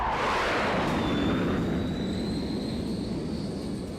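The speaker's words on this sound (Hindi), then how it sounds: "ये पुतिन के फाइटर जेट हैं जो यूक्रेन पर बमबारी कर रहे हैं।" Fighter jets flying over eastern Ukraine during bombing raids: a loud, continuous jet engine roar fills the whole stretch, with a rising whine running through it and no voices.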